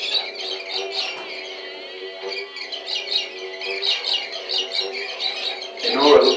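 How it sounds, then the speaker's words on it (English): Bird calls fill a forest clearing: repeated squawks and chirps of mixed pitch, rapid and overlapping, close and steady throughout. "Suddenly, the air was filled with the sound of bird calls."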